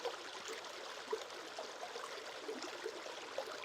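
A stream flows over rocks with a soft, steady trickling and gurgling wash, faint and even with small splashes throughout.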